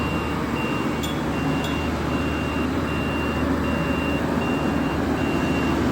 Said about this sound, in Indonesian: Jalan dia mundur dulu nak. Kalau mundur dia bunyi loh.